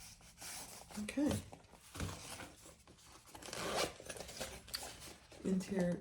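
A zipper on the interior pocket of a leather crossbody bag is pulled in several short rasping strokes at close range, with handling rustle between them.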